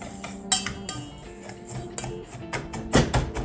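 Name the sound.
stirring a spice blend with a spoon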